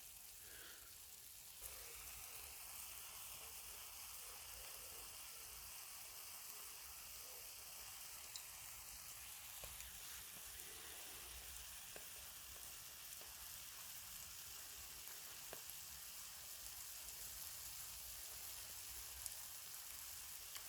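Rib eye steak sizzling steadily on a homemade squirrel cooker, a continuous close frying hiss with small crackles throughout, no talking.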